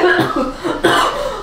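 Someone coughs a few times in quick rough bursts, close and fairly loud, indoors at a house at night.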